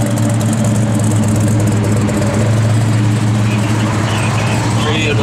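A 1968 Chevrolet Chevelle SS big block V8 idles steadily with a deep, continuous rumble, loud and close, while a person talks nearby.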